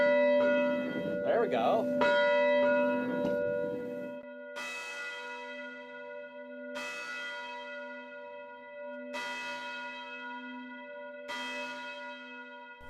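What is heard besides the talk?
church bell ringing after pulling rope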